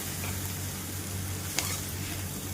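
Sabudana khichdi being stirred after lemon juice goes in, with a steady low sizzle and soft scraping across the whole stretch and one brief clink near the end, with no voices.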